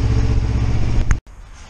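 Kawasaki Ninja 250 EX250 road racing engine running up close on a workbench before a compression test. It gives a loud, steady, rumbling drone, then cuts out abruptly into near silence.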